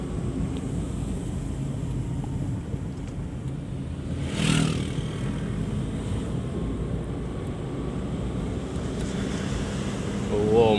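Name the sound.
ocean waves breaking on the shore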